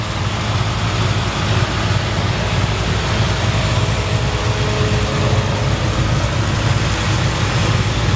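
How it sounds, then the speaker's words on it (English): A 1954 Ford F100 pickup truck engine idles steadily with a low, even rumble throughout, loud and close, with no other sounds. "You can hear the engine runs perfect."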